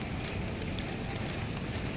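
Heavy rain pours steadily outdoors in Singapore, a dense, even hiss that fills the scene without pause and with no voices over it.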